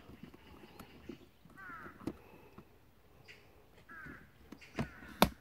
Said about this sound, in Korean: 까마귀 졸라 많네. 까마귀 산인가 봐.